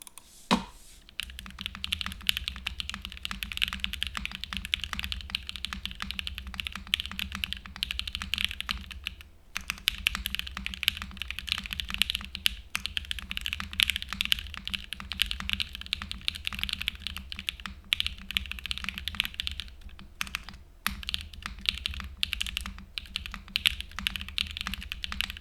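Continuous typing on a quiet computer keyboard, a dense stream of soft, rapid key clicks with a brief pause near the start and another around the middle, no voices.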